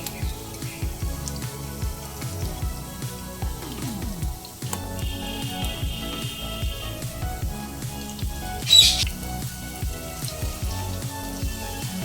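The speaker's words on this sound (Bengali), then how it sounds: "মিডিয়াম ফ্লেমে উল্টে পাল্টে সোনালি করে ভেজে নিতে হবে" Masoor dal fritters frying in hot oil over a medium flame, a steady crackling sizzle with dense popping that runs throughout, plus a brief sharper spike near the end.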